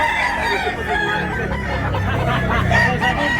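Street comb gamecock crowing at a Tabunok, Talisay, Cebu poultry market, a near, strained crow over a continuous busy market din with other birds clucking.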